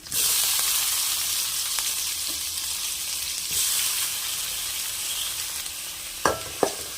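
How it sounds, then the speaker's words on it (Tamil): Chopped onions and tomatoes with curry leaves fry in a pan for cabbage rice, making a loud, continuous sizzle with occasional stirring scrapes and two sharp utensil knocks near the end; no one speaks. "வெங்காயமும் தக்காளியும் சேர்ந்து நல்லா வதங்கட்டும்"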